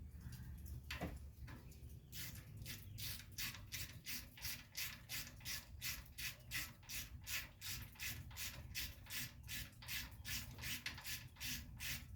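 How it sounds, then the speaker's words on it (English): A hand ratchet clicks in a steady, fast rhythm while tightening a keeper bolt on a welding truck build, the close repeated pawl clicks running throughout with a faint low hum beneath. "Now put this keeper bolt back in, and there's my ratchet."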